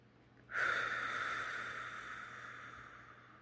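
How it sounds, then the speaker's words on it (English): A single deep, intentional breath drawn in slowly and steadily, a soft airy rush that starts abruptly and tapers gently over a few seconds, heard close and alone. "deep intentional breathing"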